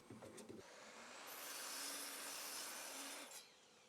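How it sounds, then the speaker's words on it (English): A mitre saw set to a 10-degree angle cuts a wooden board for a garden nesting box, giving a sustained whirring, rasping cut of about two seconds after a brief spin-up, recorded close but fairly quietly. "This time I'm changing the angle of my mitre to 10 degrees."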